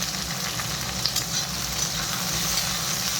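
Potatoes and onions fry in a pan with a steady, close sizzle that holds for the whole stretch, with faint crackles on top and a low hum underneath.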